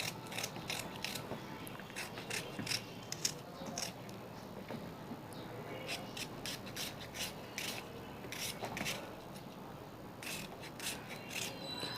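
A knife cuts through the pale white rind of a watermelon, giving a steady run of close, rasping scrapes with short crisp slicing strokes throughout and no talking.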